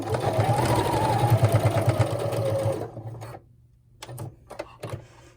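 Sewing machine stitching a quarter-inch seam along the edge of fabric for a face mask, running steadily and loudly for about three seconds, then stopping, followed by a few short bursts of stitching.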